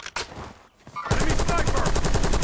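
Rapid automatic gunfire in Call of Duty Warzone, a steady close burst of evenly spaced shots starting after a short lull and lasting to the end, with faint game noises before it.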